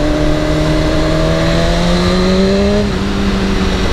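A BMW S1000RR sportbike engine, still cold at about 60 degrees, revs hard under acceleration: a loud, steady, rising whine that briefly dips as it shifts gear, then pulls on.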